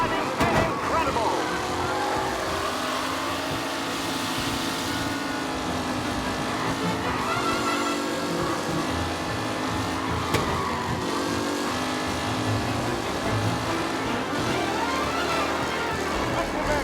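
Race car engines roar and rev steadily during a race in the Mafia video game, a loud, continuous drone of multiple cars with shifting pitch throughout.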